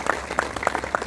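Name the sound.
audience applause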